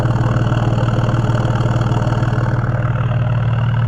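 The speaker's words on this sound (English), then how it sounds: "this is it on idle. Still probably slightly cold, but you can hear the idle now" A Jaguar XF 3.0 V6 petrol with a backbox delete exhaust idles while still slightly cold, giving a loud, steady, close-up deep rumble with an even pulsing beat throughout.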